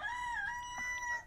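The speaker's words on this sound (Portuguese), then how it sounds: "Olha o galo cantando." A rooster crows once in the video game Garbage Hobo Prophecy, a short, clear, tonal call heard alone at moderate volume.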